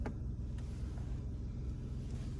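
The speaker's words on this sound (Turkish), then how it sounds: "Arabanın çalıştığını hissetmiyorsun arabanın içinde o derece." Interior of a 2013 VW Up with the 1.0 MPI 60 hp petrol engine idling, a steady low, muffled rumble that stays constant and fairly quiet throughout, with no talk.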